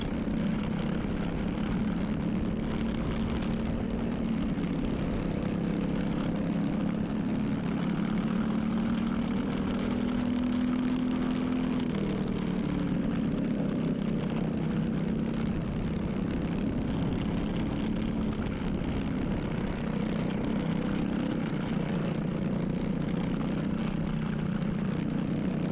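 A 2019 Tony Kart STV 450 go-kart engine screams steadily through a race at Daytona Kart Week, with a loud, continuous onboard drone whose pitch rises and falls through the laps and no talking.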